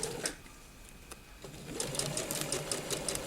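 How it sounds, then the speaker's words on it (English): Sewing machine stitching a dress yoke seam, steady rapid needle clatter running up close, starting after a few light handling clicks and continuing to the end. "Sew all the way to the end, making sure it's nice and flat underneath it."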